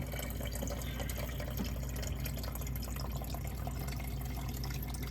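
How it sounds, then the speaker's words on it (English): Water fills a Müller cold brew system in a continuous close, moderately loud pouring rush that holds steady throughout, with no speech. "I fill it up to about a couple inches from the top."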